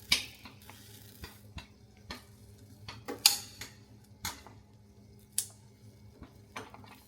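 A spoon taps and scrapes against a pan while melted compound chocolate is stirred, giving soft irregular clinks roughly every half second to a second over a low steady hum, close and fairly quiet.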